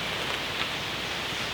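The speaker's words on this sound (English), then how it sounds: "rain's picking up a little bit" Steady rain falls at a bushcraft camp in the woods at night, a soft continuous hiss of drops on surfaces with no voices, even and unbroken throughout.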